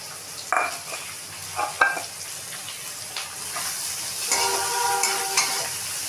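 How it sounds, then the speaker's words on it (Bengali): Onions tossed into a pan of reddened garlic for a shellfish and potato curry, a few sharp stirring scrapes and clanks followed by a rising, steady sizzle, close and fairly loud. "রসুনটা লাল লাল করে ভাজার পর পেঁয়াজগুলো দিয়ে দিলাম।"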